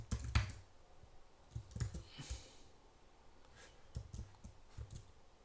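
Keyboard typing at a computer during SQL data-mapping work: scattered bursts of quiet key clicks at an irregular pace, close and otherwise alone.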